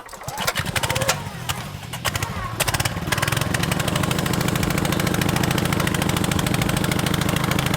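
A two-man gas-powered fence post hole auger engine is yanked and stutters, then catches and settles into a steady, loud running drone, with voices over the first few seconds.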